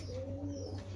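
A female pigeon's low, soft coo rolls briefly through a quiet room, a single murmuring call close by.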